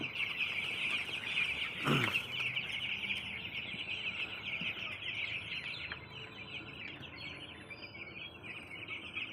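A crowd of young broiler chicks peeping and chirping continuously at a moderate distance, with a soft thump near the start.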